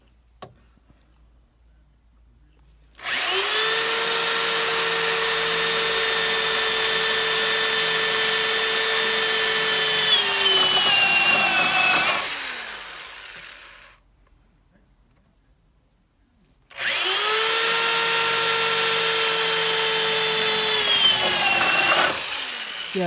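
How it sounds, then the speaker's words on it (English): Power drill boring out spot welds on a Honda hatchback race car body being stripped, two long sustained high whining runs of about nine and six seconds, loud and close, with a pause between. "finding all the spot welds, drilling them out so we can pull the front end off of this car"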